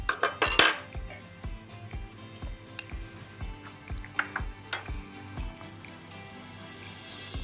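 A spoon and dishes being handled to taste besan khandvi noodles in coconut sauce, a string of evenly spaced light clinks and taps on crockery, starting with a brighter rattle and continuing close and fairly quiet.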